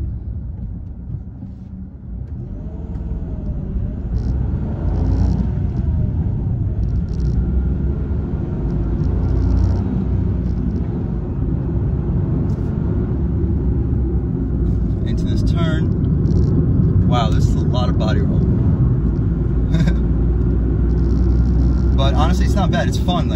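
A 2021 Mitsubishi Mirage cruises in fifth gear at about 40 mph, its low engine drone and road rumble holding steady throughout. Someone talks over it.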